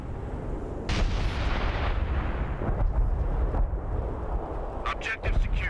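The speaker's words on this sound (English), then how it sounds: "Crowds are throwing artillery at us." Artillery fire in the World War II strategy game Company of Heroes booms as a dense, continuous roar of blasts and rumble, with a few sharper bursts near the end; a voice talks over it.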